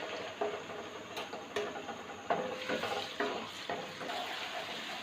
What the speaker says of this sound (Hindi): अदरक लहसुन का पेस्ट जो है इसमें डाल दिए और इसको भी हल्की आंच पर हम भूनेंगे